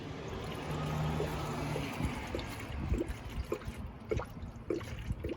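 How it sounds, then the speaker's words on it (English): Pre-mixed 50-50 coolant pours from a jug into a car's cooling system, a steady close gurgling flow at first, then irregular bubbling glugs as trapped air escapes, fairly loud with no talk. "You can hear the bubbles there as the air is escaping."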